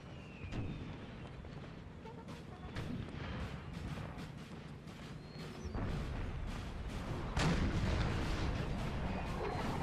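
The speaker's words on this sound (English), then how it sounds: "But you can hear the roll of the drums" A drum roll in Napoleonic Total War 3 during a 4v4 battle with Austrian forces advancing, a dense, continuous rattle of rolling beats under heavy rumbling battle noise that grows louder toward the end.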